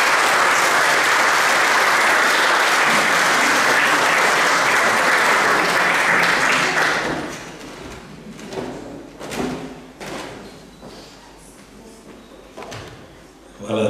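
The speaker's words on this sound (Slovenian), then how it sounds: "Velik aplavz prosim Toniju Dragarju" A hall audience at a ceremonial academy marking the 40th anniversary of the Domžale crafts and business chamber applauds loudly for the town's mayor, Toni Dragar, for about seven seconds before the clapping fades into scattered thumps and room noise.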